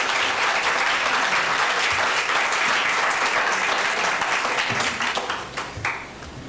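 Sustained, loud applause from a packed audience at a county commission meeting, dense clapping that fills the room for several seconds before thinning and fading out near the end.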